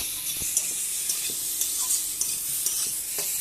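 Potatoes sauté with dried and green chili paste masala in a pan: a bright continuous sizzle with light spatula taps and scrapes recurring every half second or so, close and unaccompanied by talk.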